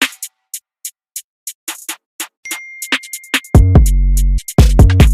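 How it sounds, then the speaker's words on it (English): Drill beat where a heavy, sustained 808 bass slides in together with the kick, booming loudly under rapid hi-hat ticks and a brief high tone, after a sparse percussion opening, with no voices. "The 808 and the kick together, they go hard."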